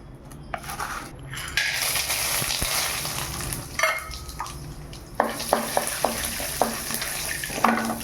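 Steady sizzling of onions frying in hot oil, with occasional clinks and scrapes of a utensil stirring the pan.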